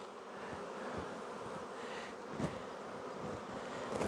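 Steady close hum of honeybees at an apiary hive, a continuous buzzing drone with a few individual bees passing nearer, no talking.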